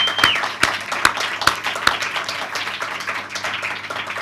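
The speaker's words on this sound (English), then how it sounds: "I really want to give a very big round of applause to all the filmmakers" An audience applauds filmmakers at the Prague International Indie Film Festival awards ceremony, with a handful of sharp, evenly spaced claps standing out over a softer spread of clapping.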